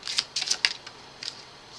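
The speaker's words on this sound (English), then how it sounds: "If you don't like the shuffling, just fast forward a little bit." Tarot cards being shuffled by hand, a few quick papery riffles and flicks in short bursts, close and fairly faint, with no talking.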